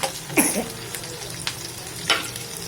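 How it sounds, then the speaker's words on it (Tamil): Small onions (shallots) sauté in a pan for a Tirunelveli-style fenugreek curry, with a soft continuous sizzle broken by a couple of brief scraping stirs, close and alone. "சின்ன வெங்காயம் வதக்கிக்கிட்டே இருக்கணும்"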